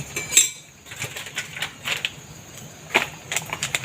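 A lid snaps shut on a seasoning container in a home kitchen while cooking rad na, giving small plastic clicks and light clattering taps spread across a few seconds, close and fairly quiet.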